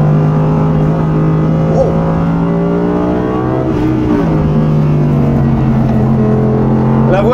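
Audi R8 V10 sports car engine running with a strong, steady harmonic drone that shifts pitch as it revs and settles, loud and close throughout with no talk.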